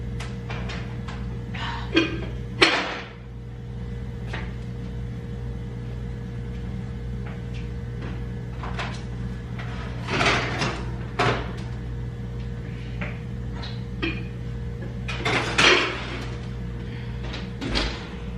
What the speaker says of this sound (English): I'm gonna cover this one and put it in the oven.